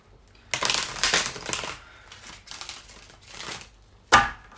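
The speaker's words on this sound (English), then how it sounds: "One more shuffle, I feel." Tarot cards are shuffled in several quick riffling bursts separated by short pauses, ending with a sharp snap, close and fairly loud.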